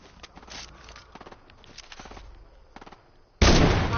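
Gunfire from the video game Fortnite, a rapid series of sharp shots in short uneven bursts at moderate volume, ending in a much louder, sustained blast.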